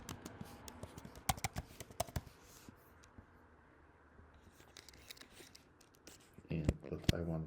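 Fingers type on a computer keyboard in Photoshop, with quick, light, irregular key clicks close by under low room tone, followed by a louder burst of handling noise at the end.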